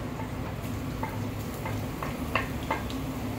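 Ginger and garlic paste sizzles in hot oil in a pan, a soft steady frying hiss with a few light stirring clicks, close and fairly quiet with no talking.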